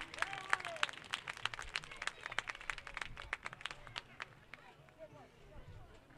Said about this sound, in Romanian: Aplauze, aplauze, pentru că știu sigur că v-a plăcut momentul